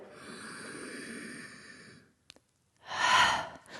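A deep, audible breath drawn in during a fascia movement exercise, a long airy inhale of about two seconds, then a pause and a second, louder breathy rush toward the end, close to the microphone with no talking.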